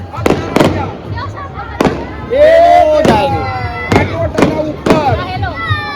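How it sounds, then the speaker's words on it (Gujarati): Firecrackers burst on a rooftop during the Uttarayan kite festival, giving a string of sharp, loud bangs spread over several seconds, with a whistling rocket rising in the middle and voices talking underneath. "બધા પ્રેક્ષકો પૂરા એક સાઈડ ફટાકડા ફૂટશે"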